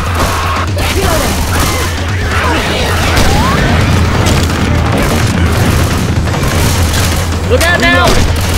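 Booming grenade launcher blasts in the Left 4 Dead 2 zombie game, heavy low rumbles over dense gunfire and chaotic game noise, with players shouting throughout and a sharp burst of squealing near the end.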